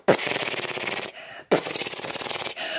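Video game gunfire in Fortnite: two rapid bursts of automatic shots with a quick rattling rhythm, fairly close, separated by a brief pause.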